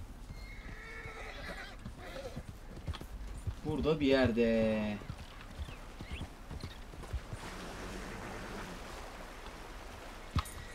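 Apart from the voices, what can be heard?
horse galloping hooves in Red Dead Redemption video game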